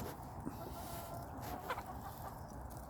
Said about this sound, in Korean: 자 닭이 많죠?